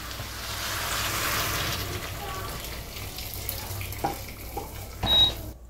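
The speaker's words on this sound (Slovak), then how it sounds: "Teraz si pridáme vodu." Water poured into a pan holding seared, salted and seasoned pork tenderloin, a steady rushing pour that is fairly loud at first and then tapers into splashes and sizzling clatter.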